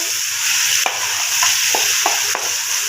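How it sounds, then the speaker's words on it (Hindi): Finely minced keema stirred and fried with garlic in a pan, a steady loud sizzle broken by a few scraping stirs of a spoon against the pan, close up with no speech. "इसे अच्छी तरीके से मिक्स कर लेंगे लहसुन में। कीमा मैंने बारीक लिया है"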